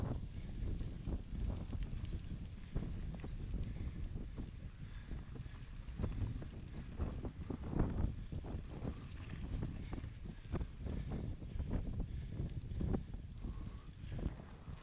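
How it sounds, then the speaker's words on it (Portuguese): Strong wind buffets the microphone during a mountain bike training ride on a rural route near Barretos, São Paulo, producing a continuous low rumble with irregular gusty thumps. "Tá ventando bastante."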